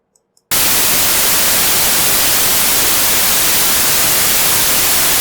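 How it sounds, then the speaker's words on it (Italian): An Eqkit SG-10 noise generator switches on after a couple of faint clicks and produces steady, loud, full-band white noise hiss that continues unchanged. "Questo è un esempio di rumore bianco."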